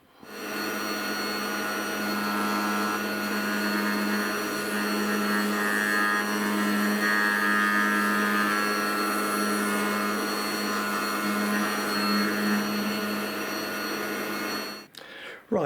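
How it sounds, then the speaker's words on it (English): A milling machine cuts a slot into the backplate of a 1946 Madewell 49 spark ignition engine, giving a steady, loud whining drone with sustained tonal hum that runs continuously before stopping abruptly at the end. "So I'll get it set up now and get this milled."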